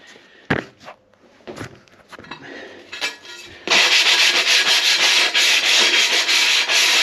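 A freshly cut edge from bathroom fitting work is sanded by hand with 60 grit sandpaper. A few knocks and handling noises come first, then steady, loud, rhythmic rasping strokes close by.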